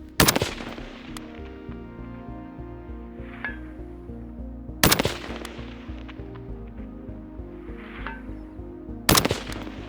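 A Steyr AUG rifle firing 5.56 rounds at a target 800 away outdoors, three sharp loud shots spaced several seconds apart, each followed by a long fading echo, with quieter distant impacts in between.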